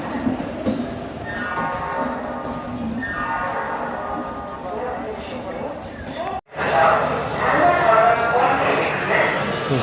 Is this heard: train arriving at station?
yes